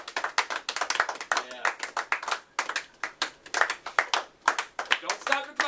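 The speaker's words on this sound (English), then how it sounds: "Don't stop the clapping, baby. It's still happening." Group clapping at an office Christmas gathering, a rhythmic run of distinct sharp claps from several people, close and lively, with voices talking over it.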